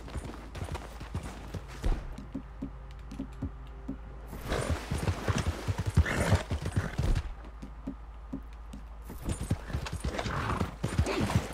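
A horse's hooves clip-clop steadily in Red Dead Redemption 2, an even rhythmic gait up close with occasional snorts, alternating between quieter stretches and busier bursts of outdoor game sound.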